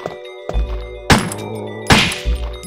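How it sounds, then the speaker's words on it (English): Zombie headshots in the Resident Evil Director's Cut video game, two loud heavy thunks of impact with short crunchy tails, close and distinct over quiet background game music, with no talk. "Ooh, double headshot."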